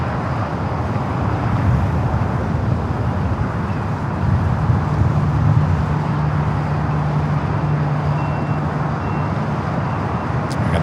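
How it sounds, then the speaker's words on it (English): A Boeing 787 Dreamliner taxiing toward runway 5 right at LAX, heard as a steady, loud, continuous low engine rumble and broadband roar that holds level throughout, with no talk over it. "Another Dreamliner rolling down to 5 right"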